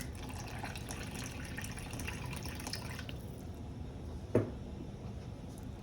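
Warm water pours steadily into flour for dough in a soft, continuous splashing stream, followed by a single sharp knock near the end.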